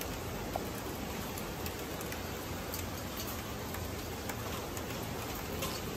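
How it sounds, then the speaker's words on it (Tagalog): Steady, dense rain hissing without a break, a constant wash of noise with faint scattered ticks of drops hitting a surface. "Lakas din ulan dito sa amin, oh."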